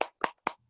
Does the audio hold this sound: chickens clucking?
no